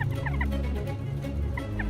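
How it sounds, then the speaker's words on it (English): A pair of jackdaws calls near a kestrel nest, giving short, bright calls that come in scattered clusters over a low, steady background rumble. "This time it's a pair of jackdaws prospecting nests."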